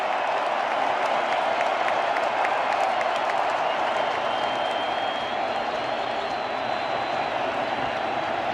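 Steady, dense applause and cheering from a large baseball stadium crowd during a World Series game between the Dodgers and Astros, a continuous loud roar of clapping and voices throughout with no break.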